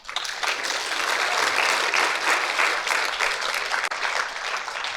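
Audience at a SEVENTEENx Sydney talk breaks into sustained clapping, a dense even applause that holds steady for several seconds with no voices over it.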